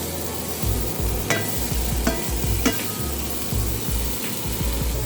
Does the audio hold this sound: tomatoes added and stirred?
yes